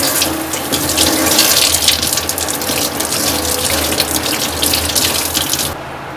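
A tap runs hard into a sink to test the lather of homemade multipurpose soap, a loud close gushing stream that pours steadily and then cuts off sharply near the end.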